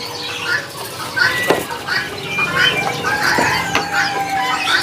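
Black-billed caijo birds at a bird market calling and fluttering close by, with chirps and wing flaps scattered through a busy market background.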